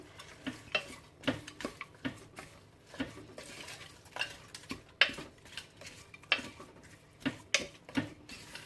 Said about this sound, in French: je mélange tout ensemble pour que la viande s'imprègne de toutes les épices